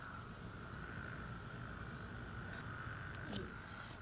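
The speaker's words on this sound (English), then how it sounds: "We have frogs." Frogs calling in the rain near a backyard puddle, a continuous shrill trilling chorus heard through a window, steady and fairly faint, with a few faint bird-like chirps near the end.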